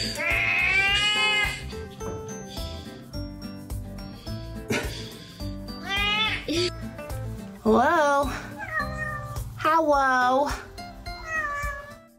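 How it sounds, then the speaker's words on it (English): A cat welcoming its owners home meows repeatedly, long rising and falling calls, some almost caterwauling, coming in bursts close by while a person greets it in a soft voice between them. "In cat's language, he is definitely presenting a whole speech about welcoming his parents home."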